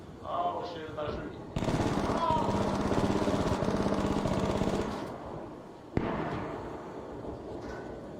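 A turret in the video game ARC Raiders fires a sustained, rapid automatic burst for several seconds, loud and dense, then stops; a single sharp crack follows, with voices faintly under the gunfire.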